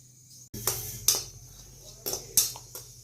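Coconut dry roasting in a pan with a little oil: a spatula or spoon scrapes and knocks against the metal in several sharp, separate clanks over a low background hum.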